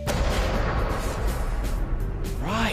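A loud, rumbling special effects explosion with booming blasts rolling on for a couple of seconds, and a voice rising briefly at the end.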